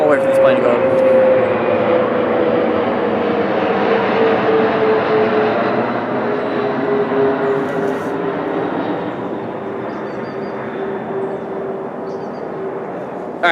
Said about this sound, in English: So I'm gonna wait for this plane to go over.